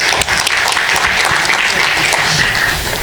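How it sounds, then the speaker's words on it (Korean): Warm applause from a forum audience at a university innovation event in Korea, loud and continuous, a thick wash of many hands clapping across the short span. "뜨거운 박수 보내주시기 바랍니다"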